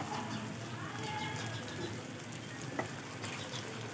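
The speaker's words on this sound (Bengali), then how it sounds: "কেন বেশিক্ষণ ভাজা ভাজা করলে এটা তেতো লাগবে সেই জন্য আমি এক মিনিট নাড়াচাড়া করে জল দিয়ে দেবো" Pabda fish fries in mustard gravy in a pan while being stirred, making a continuous low sizzle with faint scrapes, heard at moderate distance.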